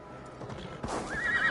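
A horse neighs in Assassin's Creed Valhalla, a short whinny rising out of quiet hoof clops, close and moderately loud, with no talk over it.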